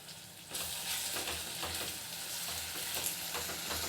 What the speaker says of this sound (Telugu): కొంచెం ఫ్రై అయిన తర్వాత దీనిలో అల్లం వెల్లుల్లి పేస్ట్ వన్ స్పూన్ యాడ్ చేసుకుని